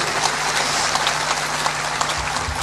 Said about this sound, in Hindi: देखो थोड़ा बजाया, थोड़ा निकला है वो।